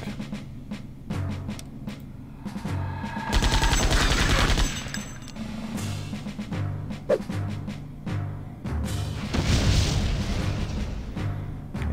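Bursts of gunfire and a heavy grenade blast in the game Septerra Core, dense rapid shots rolling over a steady musical backing, with a second loud burst of explosions and fire later on.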